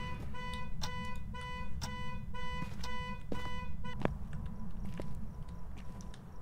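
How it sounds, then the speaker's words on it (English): A house alarm in the ghost-hunting video game Phasmophobia, set off by the ghost, sounds as a rapid series of sharp electronic beeps, fairly loud over a rumbling background, thinning out into scattered tones toward the end. "He set the alarm off at the house."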